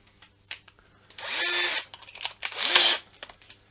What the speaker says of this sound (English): I'm going to use one of these. Extension on my drill,